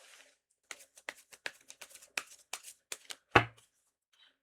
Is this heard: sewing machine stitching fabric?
no